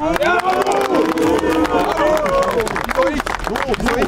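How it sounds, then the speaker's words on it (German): A crowd at a rapper sound clash event claps and cheers for the rapper Agu, dense clapping and hubbub with voices calling out over it, loud and close throughout. "Applaus für Agu!"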